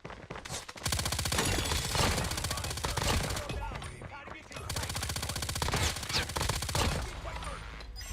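An MG82 light machine gun in COD Mobile fires long, loud, rapid automatic bursts, with a short break partway through before the stream of shots resumes. Game sounds and faint chatter sit underneath.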